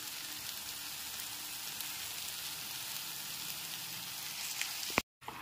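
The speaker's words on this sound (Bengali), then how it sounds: "এরপর এর মধ্যে ম্যারিনেট করা চিকেনের টুকরোগুলো দিয়ে দিচ্ছি।" Marinated chicken pieces hitting a hot pan give a steady, dense sizzle that holds evenly at moderate volume, then cuts off abruptly near the end.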